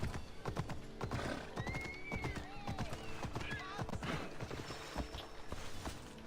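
A galloping horse in Assassin's Creed Odyssey pounds out rapid hoofbeats, with whinnies and creaking tack mixed in, fairly close under game sounds.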